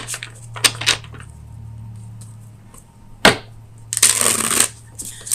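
Tarot cards being shuffled in a quiet room: several brisk riffling bursts and soft slaps of the deck, close and fairly loud, with a low steady hum underneath and no talking.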